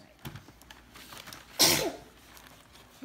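A single sharp sneeze bursts out midway, loud and close, with faint background voices and small noises around it.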